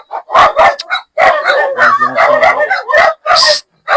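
A dog barks and yelps repeatedly at close range outdoors in the dark near a pig pen, with short excited bursts over about four seconds while people talk nearby.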